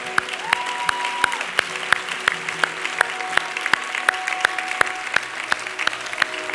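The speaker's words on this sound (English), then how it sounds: "we're going to applaud Jesus" A church congregation at an Easter Sunday service applauds in a sustained, lively burst of clapping, sharp individual claps popping through the crowd's steady patter, with a few faint voices underneath.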